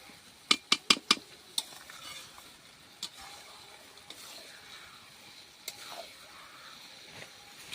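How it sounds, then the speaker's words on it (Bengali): Mutton coated in spices is stirred in a pan with a utensil, giving several quick scraping clacks at first, then sparser scrapes over a soft, low sizzle. "এবার মশলার সঙ্গে ভালো করে এভাবে মিশিয়ে নিচ্ছি।"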